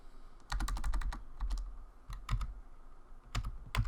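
Close-up clicks on a computer keyboard as a sudo command is typed in bursts of quick keystrokes, with short gaps and a few louder key presses, fairly quiet and with no talk.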